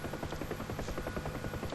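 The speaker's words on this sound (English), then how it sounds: "Now, I'm going to reset the trimmer and the helicopter's going to spin." Huey helicopter in the DCS World flight game, rotor blades thumping in a fast, even rhythm over a constant turbine buzz, close and steady, no talk.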